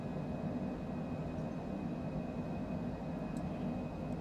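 Citation Longitude business jet climbing after takeoff in Microsoft Flight Simulator 2020, a steady broad engine roar with a low rumble that holds at even loudness throughout.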